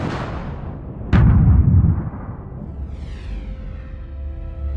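Explosions burst around a fort during a bombardment, with one sharp, heavy blast rising out of a low rumbling background, followed by lingering noise.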